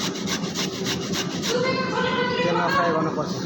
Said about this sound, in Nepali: आलु चाहिँ यसरी छिलेर यसरी ग्रेट गर्नुहोस्।